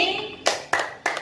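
Children clap their hands in a clapping game, three sharp, evenly spaced claps close by, with faint voices in the background.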